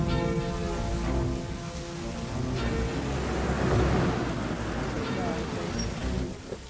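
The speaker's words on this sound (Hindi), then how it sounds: "चलो बारिश भी आ गई" Steady rain with low rumbling thunder in a film scene, a continuous wash of rainfall that swells slightly midway, with music or voices faintly underneath.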